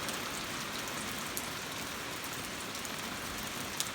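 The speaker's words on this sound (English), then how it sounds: "I didn't think it was going to rain today." Steady rain falls outdoors around a trailer and pear tree, a dense continuous hiss of drops on surfaces at even loudness throughout, with no talking.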